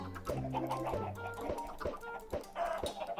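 Video game chicken clucking in quick bursts as it is hit, close and fairly quiet, with sharp game-like thuds mixed in; no talking.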